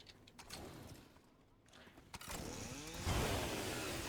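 Chainsaw picked up in Fortnite, its engine revving up loud and steady in the last second and a half after quieter game noise and brief clatter.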